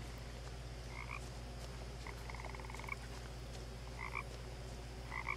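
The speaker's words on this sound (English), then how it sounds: "Croaky frogs." Frogs croak in the video game What Remains of Edith Finch, short double croaks and one longer rattling call spaced over a steady low ambient hum, faint and somewhat distant.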